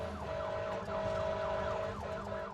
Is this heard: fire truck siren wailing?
yes